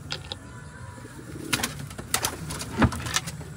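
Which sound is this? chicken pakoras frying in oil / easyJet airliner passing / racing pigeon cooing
racing pigeon cooing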